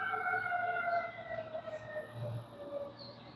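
Fire engine sirens wailing at a distance, long sustained tones gliding slowly in pitch over steady low background rumble, with no voices.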